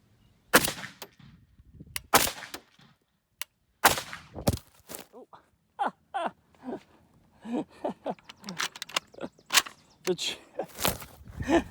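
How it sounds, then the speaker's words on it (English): Rifle shots, including a 7.62 fired from a tripod, strike a vehicle door outdoors: several sharp, loud cracks spaced irregularly, followed by clattering and handling noises with brief talk between them. "Oh, let's shoot underneath you."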